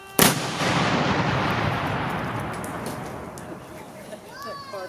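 A muzzle-loading cannon fired by a gun crew at a living-history demonstration: one sharp, loud blast followed by a long rumbling roll that fades over several seconds, with faint voices afterward.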